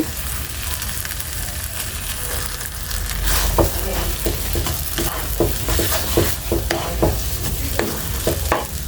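A spoon stirs a rasmalai mixture of raisins, nuts and milk powder made with bread and carrot, giving a steady sizzling rasp with a run of repeated scraping strokes in the second half, close and with no talk.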